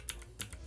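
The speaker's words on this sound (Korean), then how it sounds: "컨트롤 키 그리고 시프트 키 마우스 왼쪽 버튼을 클릭해서요" Keys on a computer keyboard and a mouse button pressed while copying lines in a design program: two crisp, close clicks about a third of a second apart, faint and with no talk.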